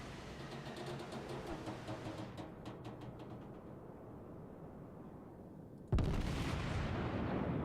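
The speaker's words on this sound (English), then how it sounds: "We'll send shells out towards that cruiser." Battleship guns fire shells at a cruiser in World of Warships, with a low rumbling barrage and rapid repeated booms, then a sudden louder blast near the end.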